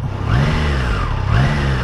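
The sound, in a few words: Triumph Tiger Sport 660 A2 motorcycle engine revving at standstill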